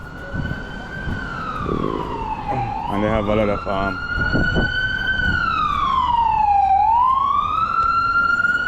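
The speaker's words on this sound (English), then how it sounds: "that's an ambulance passing" An ambulance siren wails loudly in a rising and falling sweep as it passes along a street in Montego Bay's Hip Strip, with traffic rumble below and someone talking briefly over it.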